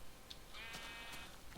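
A Minecraft sheep gives a drawn-out wavering bleat in the middle, moderately loud over steady background game noise, with no talk.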